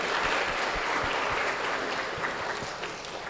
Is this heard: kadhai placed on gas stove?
no